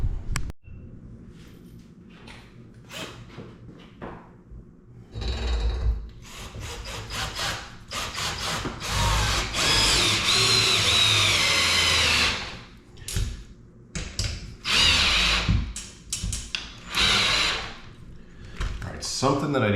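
A power drill fitted with a drive extension tightens bolts on a HomeStrong home gym, giving several close, rising whirring bursts with quieter gaps and occasional speech in between.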